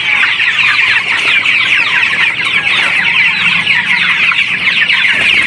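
A flock of 45-day-old pet chickens at feeding time on a farm, a loud continuous chorus of clucking and chirping close by, with no talking heard.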